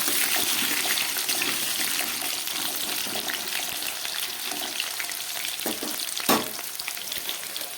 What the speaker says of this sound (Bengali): এবারে আমি কেটে রাখা আলুগুলোকে একটু ভেজে নেব।